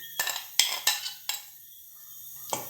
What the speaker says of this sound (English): Putting in my pepper.